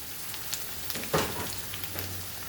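One large chopped onion fries in a pan for Goan chicken rolls, producing a dense, even sizzle with a brief louder crackle around the middle.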